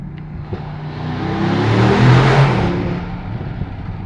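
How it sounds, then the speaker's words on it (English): A Mercedes-AMG GLE63 S Coupe engine rumbles close by, swelling into a louder rev in the middle before easing back to a low idle. "It makes a good noise, this nice rumble, and I get occasional pops from the exhaust"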